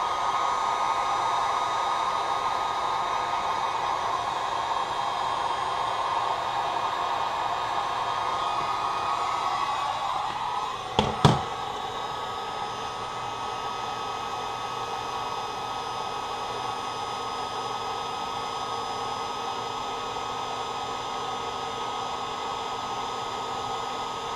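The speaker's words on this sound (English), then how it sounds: "And then we're going to take your lighter, your heat gun, and get that on there." A heat gun blows steadily and loudly throughout while shrinking tubing over airsoft mosfet wiring, with a couple of brief clicks midway and no talk.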